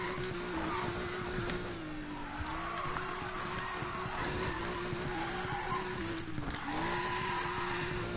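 A car drifting through alternating corners in Need for Speed Payback, a sustained engine drone with steady, loud tire skid and squeal running the whole time, swelling slightly as the car switches direction.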